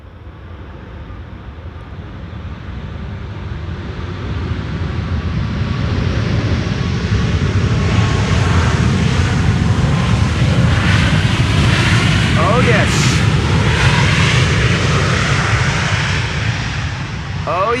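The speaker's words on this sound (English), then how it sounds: "And WestJet arriving from Halifax is landing here." A WestJet airliner from Halifax lands on runway 18R, the Polderbaan at Schiphol, its jet roar swelling steadily from a rumble to a loud, broad rush under wind, with a person briefly speaking.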